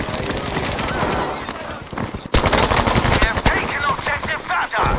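Battlefield V video game gunfire: dense rapid bursts of automatic fire and shots crackle throughout, loud and continuous, with excited voices talking over the battle noise.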